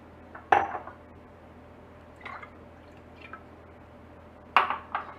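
Coconut cream, about 700 ml, goes into a cooking pot for a Thai tea layered dessert. It makes a few sharp clinks and soft drips at the start and near the end, quiet and close, with no talking.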